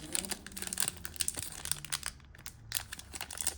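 Foil wrappers of Hobbit collector booster packs being crinkled and torn at, a continuous close crackling and rustling with repeated sharp tearing bursts as the stubborn packs resist opening.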